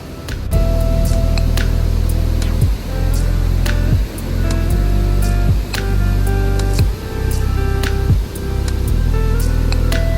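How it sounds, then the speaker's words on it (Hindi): A waterfall on the Vena River in heavy monsoon rain gives a loud, continuous roar of rushing water, with steady spray and hiss that never lets up. "यहाँ के पानी का फ्लो बहुत ही तेज़ था और बारिश बहुत तेज़ होने लगी थी।"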